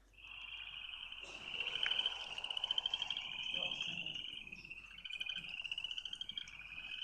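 Frogs call from a backyard at night, a dense shrill chorus of steady trilling and pulsing chirps mixed with insect-like buzzing, constant and fairly close, no talking.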